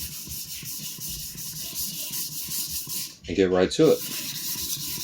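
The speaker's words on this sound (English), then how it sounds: "all I'm doing on this 400 stone right now is basically I'm polishing out the larger scratches" A sujihiki knife blade rubs against a 400 grit whetstone, steady gritty scraping strokes heard under a man's speech, with a brief louder burst of rasping near the end.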